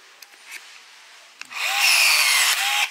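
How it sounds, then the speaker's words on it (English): A rivet gun pulls a rivet tight: a few faint clicks, then about a second and a half of loud, strained mechanical whirring close by as the tool bogs down, with no talk. "You could hear the rivet gun kind of bogged down a little bit."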